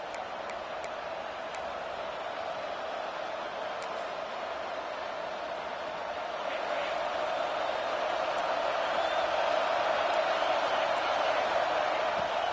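A stadium crowd at a South Carolina football game roars steadily, a distant, sustained wash of noise that swells louder in the second half as the stands get rocking.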